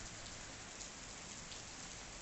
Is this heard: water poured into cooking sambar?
no